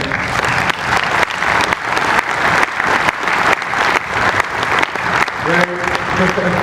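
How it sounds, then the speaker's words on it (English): Loud, continuous applause from a crowd at the closing of a University of Michigan quarterback football camp, with a voice emerging over the clapping toward the end. "And Jed Fish, probably a special round of applause."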